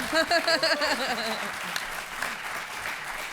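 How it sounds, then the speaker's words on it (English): Audience applause from a crowd at a Star Wars Celebration podcast stage show, loud and dense at first with a voice over it, then thinning into a steadier wash of clapping. "Clap."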